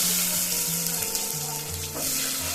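Onions frying in a pan with bay leaf and fennel make a loud steady sizzle and hiss, close up, with a few clinking and stirring noises underneath and no talking.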